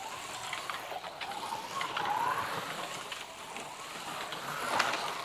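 A Williams F1 slot car circles a track with a steady electric whirr and a faint rising and falling pitch as it passes, fairly quiet against the room, with no talk over it.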